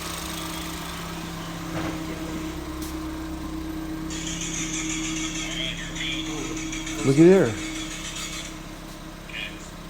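A 2014 Ford Escape 1.6L engine, after a head gasket replacement, idles steadily and smoothly with a low hum throughout, while people talk briefly nearby.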